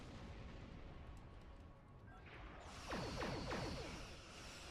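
A weapon fires in the Star Trek Online space game, a booming artillery-like blast that swells midway through over a low rumbling background, with rapid crackling bursts and no speech.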